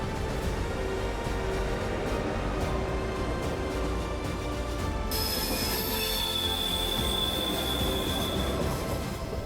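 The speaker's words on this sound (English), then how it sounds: "the TGV Inoui is just pulling out" A TGV Inoui high-speed train pulls out of a station, its wheels and carriages producing a continuous rolling rumble with high metallic squealing that grows brighter partway through, heard from the platform.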